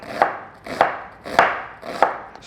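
Knife chopping onion into small pieces on a cutting board for a radish and cucumber salsa, four crisp, evenly spaced chops, close and clear with no talk.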